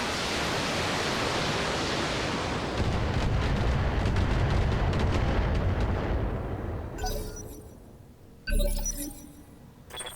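Mech weapons fire in the game Battletech, a long loud roaring blast of noise that thickens and then fades, followed by a sharp crashing impact and scattered metallic debris.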